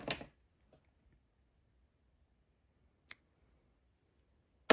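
Scissors give a single crisp snip through yarn thread during amigurumi crochet work, close and quiet against near silence, with a faint click before it and another snip at the end.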